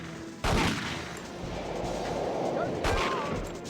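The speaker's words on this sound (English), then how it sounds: "Like shoot the posters." Gunfire from 007: The World Is Not Enough on the N64, shooting at posters: two sharp, loud shot bursts roughly two seconds apart over a dense, noisy in-game background.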